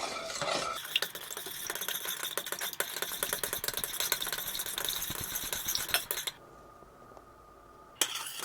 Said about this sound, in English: Let's give these a quick stir.